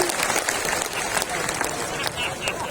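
Audience applause fills the room at a steady, dense level throughout, a crowd clapping together with no pauses, at an Indonesian talk show or public discussion.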